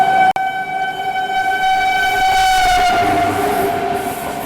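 The CR Rajdhani Express passes close by, sounding a loud, sustained horn over the rumble and clatter of its coaches on the rails.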